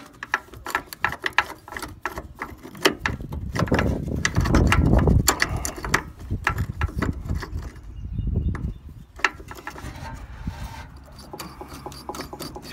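A ratchet works a bolt on the hatch of an 84-96 Jeep Cherokee, giving repeated clicking and rasping strokes in uneven bursts, close and fairly quiet.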